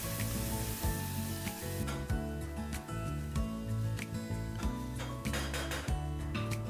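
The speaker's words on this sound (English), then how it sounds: "add the onion garlic paste. Now let this cook till the onions turn golden brown" Onion garlic paste with whole spices fries in hot oil close by, giving a steady sizzle broken by scraping stirs and pan clinks.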